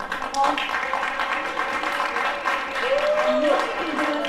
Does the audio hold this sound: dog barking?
no